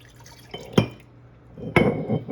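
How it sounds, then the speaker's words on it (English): Sesame oil pours into a glass mason jar, giving soft liquid trickles and two sharp glassy clinks close by with no talk. "I'm just gonna pour that right in the mason jar."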